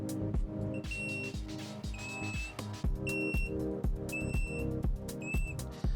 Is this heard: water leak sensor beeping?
yes